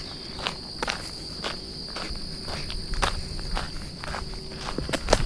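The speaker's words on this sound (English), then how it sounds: "I just love that there's so many crickets here. That is one of the best sounds of summer." Crickets chirp steadily through a quiet summer countryside evening, a continuous high trill running alone throughout, with a few soft footsteps and rustles scattered underneath.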